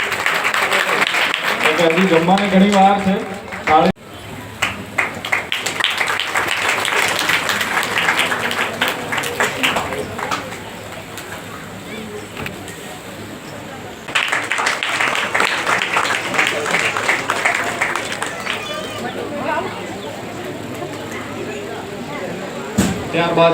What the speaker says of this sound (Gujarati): મિત્રો, તાળીઓનો ગડગડાટ થવો જોઈએ.